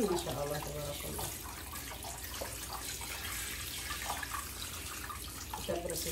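Cold tap water runs steadily over fish being rinsed in a kitchen sink, a continuous close splashing hiss with a few brief bursts of background sound.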